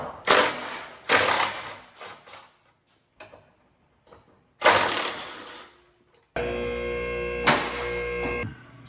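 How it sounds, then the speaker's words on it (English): Ratchet work on a Mazda Miata's front suspension, backing off two 14 mm nuts up top, heard as several loud bursts of rapid clicking separated by pauses, ending in a steadier buzzing run. "remove these two nuts."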